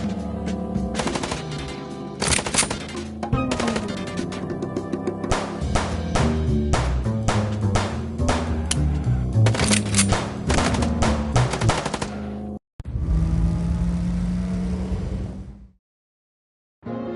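Rapid bursts of gunfire from the video game Chicken Police, loud and dense, machine-gun rattles and shots running nearly continuously, then a brief break and a sustained final volley before silence.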